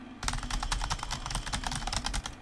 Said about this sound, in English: I'm like typing like a hacker